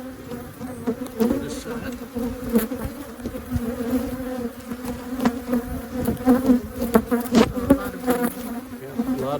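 Honey bees buzzing loudly and continuously during an open beehive inspection, a dense close swarm drone that swells and fades, with brief talk from people over it.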